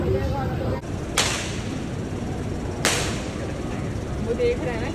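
Two sharp firework cracks a couple of seconds apart, set against a noisy outdoor background with voices.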